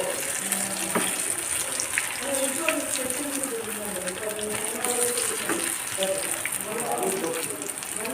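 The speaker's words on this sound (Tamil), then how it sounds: "எண்ணெய் காஞ்சிருச்சு. இதில் ஒன்று ஒன்றா நம்ம போட்டு பொரிச்சு எடுத்துருவோம்." Meal maker soy chunks frying in hot oil, a steady hissing sizzle with scattered crackles continuing under a person talking.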